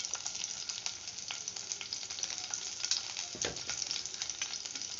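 Garlic and green chillies fry in hot oil, giving a dense, crackling sizzle that runs steadily at close range with scattered pops and light stirring. No voices are present.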